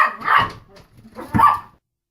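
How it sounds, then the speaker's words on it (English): Puppies give two quick, sharp yipping barks indoors, close and fairly loud, with a short pause between them before the sound stops. "Excuse my puppies."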